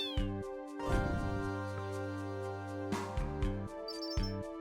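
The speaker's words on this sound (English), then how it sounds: "Oh, there's a cat right here." A cat in the video game Final Fantasy VIII meows several times in drawn-out, tonal cries, close and clear, over a synthetic musical background.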